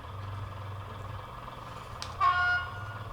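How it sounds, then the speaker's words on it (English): A toy device's horn button gives a short electronic honk after a faint low hum, a single brief toot sounding near and clear. "So 3 is our horn."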